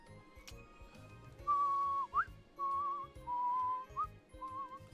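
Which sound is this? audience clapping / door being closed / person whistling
person whistling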